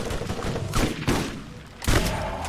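Gunfire in the video game Borderlands: several bursts of rapid shots in quick succession, loud and close, with short gaps between volleys and game effects and ambience underneath.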